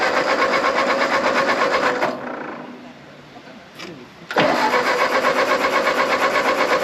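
A 1939 Ford 9N tractor engine cranks over in a steady, rapid chugging rhythm, stops for about two seconds, then resumes cranking loudly and close by.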